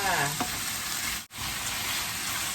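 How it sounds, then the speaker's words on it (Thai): Chicken with red curry paste fries in a pan under a dense, loud, continuous sizzle, with a brief dip partway through as it is stirred. "คนให้เข้ากันเลยนะคะเพื่อน"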